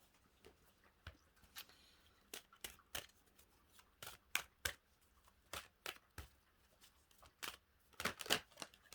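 Oracle cards being shuffled and tossed, heard as a quiet, irregular run of crisp flicks and slaps close by, with short bursts bunching together toward the end.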